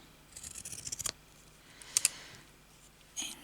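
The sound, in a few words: scissors cutting fabric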